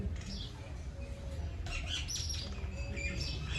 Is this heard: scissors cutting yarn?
no